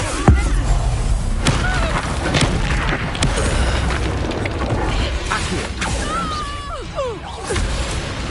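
Confringo fire blast spell in Hogwarts Legacy amid chaotic combat: a sharp opening burst followed by repeated booms, whacks and crackling impacts, loud and close over a rumbling, cluttered game soundscape.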